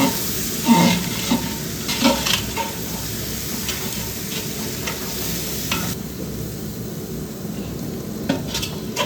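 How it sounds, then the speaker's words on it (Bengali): Spice paste of turmeric and chili paste being stir-fried in a pan over a high gas flame for Bengali mutton curry, a steady close sizzle with repeated scraping stirs and occasional utensil knocks. "এইবার এই মশলাগুলোকে খুব ভালোভাবে কষিয়ে নেব"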